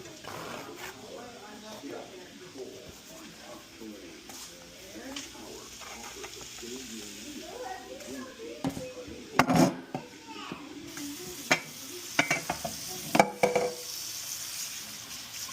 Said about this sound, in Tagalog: Lumambot na yung sibuyas. Ilalagay na natin yung kamatis. Diba? Hanggang sa maluto yung kamatis.